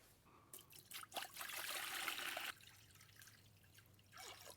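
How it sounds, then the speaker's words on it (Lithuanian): Water poured into a pot, about six litres, for home beer brewing: a loud, steady rushing pour of a couple of seconds with trickles and drips before and after, no talking. "Taigi dabar pripilsime jį vandens, apie 6 litrus."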